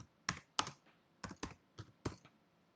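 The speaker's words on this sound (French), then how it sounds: "ici, on tape static HTML" Short bursts of keystrokes on a computer keyboard as a search is typed, several quick clusters of close, crisp clicks separated by brief pauses in a quiet room.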